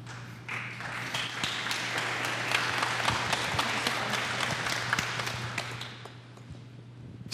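Church audience welcoming a lecturer with warm applause that starts abruptly, holds steady for several seconds with crisp individual claps over a low steady hum, then tapers off.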